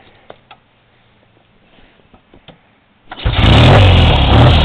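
A 1965 Triumph TR6SR 650 Trophy motorcycle is kicked and fires up after some quiet clicks and handling noises, then settles into a loud, close, rumbling idle.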